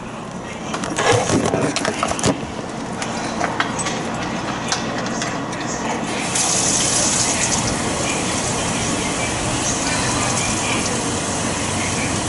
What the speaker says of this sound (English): I gotta fill up this water bottle